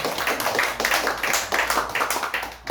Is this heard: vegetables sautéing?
no